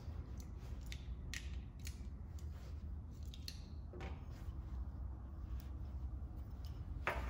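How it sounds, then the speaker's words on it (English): Insulation is stripped from an electrical cable for a flat-top metal light bulb socket: a series of sharp snipping and creaking clicks, close and distinct, over a steady low background hum. "Then we'll strip back the cable about an inch, maybe a little less."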